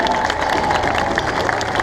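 A Tour de France crowd applauds and cheers cyclist Frank Schleck, a dense continuous wash of clapping and shouts under faint announcer talk.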